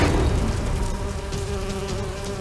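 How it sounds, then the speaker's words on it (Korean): A swarm of honeybees buzzes densely around a giant hornet, making a loud, continuous, close-up drone that holds steady throughout with no voices. "꿀벌떼가 장수말벌을 윙윙대는 무서운 감옥에 가두고"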